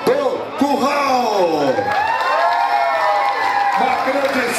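A crowd cheers, whoops and shouts loudly and continuously at a charity auction event, with children's voices among the excited cries and some clapping mixed in.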